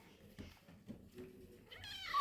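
A tiny abandoned puppy, about the size of a kitten, whimpers and cries faintly in short, thin sounds. The cries end in a higher, drawn-out whine over a quiet indoor background.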